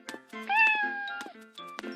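A cat meows clearly and close up in a few drawn-out calls, with rising and falling pitch and short gaps between them. No one speaks.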